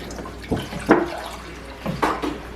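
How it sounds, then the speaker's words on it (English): Water poured, about two cups, for a roast chicken marinade in a home kitchen, heard as a few short splashing bursts close by with quiet gaps between them and no talking. "we start out with water, about 2 cups of water."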